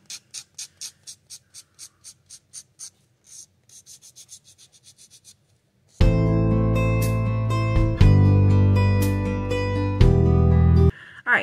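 A nail file works down acrylic-prepped fingernails in a steady run of short, even rasping strokes for about five seconds, then music takes over and the filing is no longer heard.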